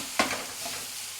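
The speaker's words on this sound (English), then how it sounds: "I'm just going to stir the beef" A spoon scrapes once through ground beef frying in a pan as a soft, steady sizzle of the meat continues underneath.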